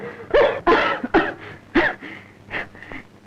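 A person coughs in a series of harsh, wheezy bursts, about six close coughs with a rough, breathy tone, loud at first and fading toward the end.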